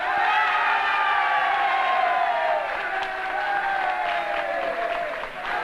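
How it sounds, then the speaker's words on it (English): Sustained applause from supporters filling a hall after a 1959 general election count result in Salford, steady and dense throughout with a faint overlaid voice. "Charles Royal receiving the applause from his supporters down at the end of the room there"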